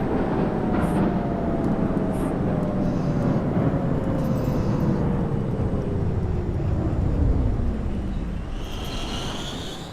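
An R32 subway train running in the OpenBVE simulator game, a loud steady rumble of wheels and motors with a slowly falling whine, and brief higher squeals near the end.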